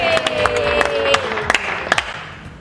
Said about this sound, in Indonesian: Tepuk tangannya mana?